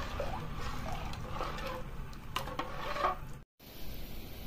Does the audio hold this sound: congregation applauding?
no